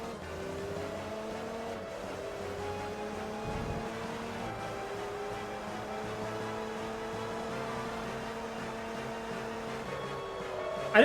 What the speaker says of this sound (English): I just heard my car still accelerating